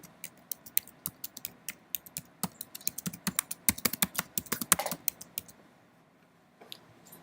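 Rapid clicking keystrokes on a computer keyboard, close and crisp, in uneven bursts that stop abruptly, with a few faint taps near the end.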